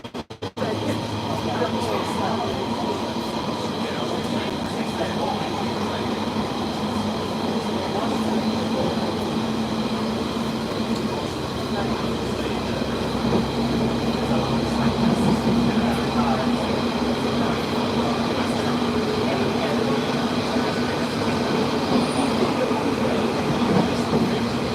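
A London Underground train approaches Snaresbrook station with a loud steady rumble, clattering wheels and a sustained whine, heard from inside the carriage, with a voice faintly under the noise.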